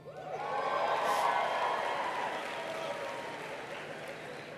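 Applause from a graduation ceremony audience for the College of Natural and Social Sciences, a steady wash of clapping that swells within the first second, holds, then slowly thins while continuing to the end.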